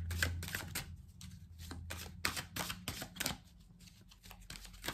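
Oracle cards shuffled by hand in quiet close-up, a run of quick papery riffles and soft flicks with brief pauses, no voices.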